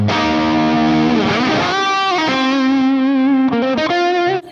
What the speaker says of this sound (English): it cleans nicely, and you get this strat sound